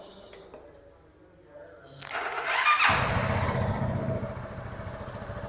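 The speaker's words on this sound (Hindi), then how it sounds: "इसका एक बार मैं एग्जॉस्ट साउंड सुनाता हूँ आपको" A 2024 Keeway K300R motorcycle engine cranks and fires, followed by a close, steady exhaust idle rumble with a brief rev at startup.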